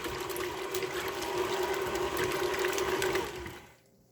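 Cream churning into butter and buttermilk in a mixer, a steady close whirring wash with watery sloshing that runs for about three and a half seconds and then stops, leaving near silence.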